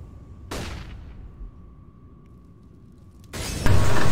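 Flashbang grenade going off in the game CS:GO: a sharp bang followed by a fading ring and a thin steady tone, then another loud burst of noise toward the end.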